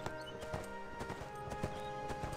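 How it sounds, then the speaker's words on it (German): Rhythmic clip-clop of a horse's hooves at a steady pace while riding through bush in ArcheAge, fairly faint and continuous with no talk. "So, reiten wir mal hier mal quer durch den Busch."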